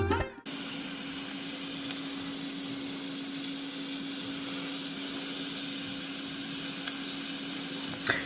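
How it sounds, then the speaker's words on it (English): Steady, loud hiss of steam escaping continuously from a pressure cooker cooking mutton, with a faint tone running underneath and a brief rustle at the very start. "You have to wait till the hissing sound of the steam coming out stops."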